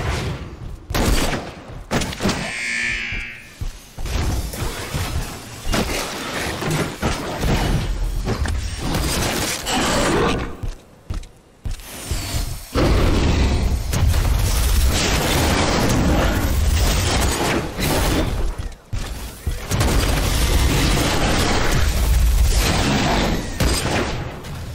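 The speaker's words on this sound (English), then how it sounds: "Stop throwing grenades around." Grenades and gunfire burst repeatedly during combat in the video game Werewolf: The Apocalypse – Earthblood, with dense booms, rattling shots and chaotic noise filling nearly the whole stretch at loud volume.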